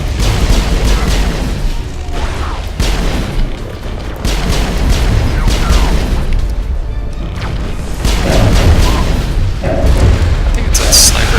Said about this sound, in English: I think it's a sniper gun.